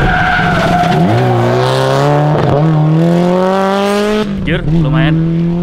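A rally car on the track at the Tropical Sprint Rally howls close by, with a rising, whining engine and squealing tires sliding through a corner, loud and continuous, with faint voices underneath.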